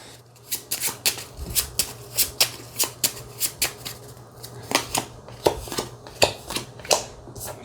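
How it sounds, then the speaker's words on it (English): A deck of game cards is riffled and shuffled repeatedly, giving a run of crisp, close flutters and slaps in a steady uneven rhythm. "Shuffle my deck here."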